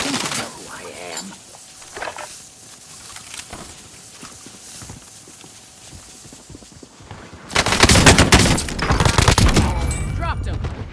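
Gunfire in the video game Call of Duty: Modern Warfare. A quieter stretch of scattered clicks and thumps gives way to a loud, dense, sustained burst of rapid automatic fire near the end.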